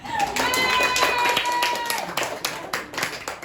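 Clapping from a small group, brief and moderately loud, breaks out while voices and a sustained tone carry over it, then thins into scattered claps.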